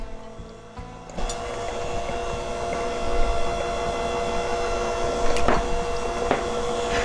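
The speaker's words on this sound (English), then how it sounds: "You notice I have the mixer on a lower speed right now" Electric stand mixer running on low speed while mixing powdered sugar into a lemon bar topping, a steady whirring motor hum with a few clinks and bumps, close and continuous.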